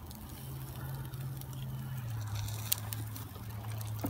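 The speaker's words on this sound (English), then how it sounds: "So there's the sizzle I was looking for." Chicken frying in oil in a Dutch oven over a campfire, a faint continuous sizzle and crackle with a low hum underneath and occasional small pops.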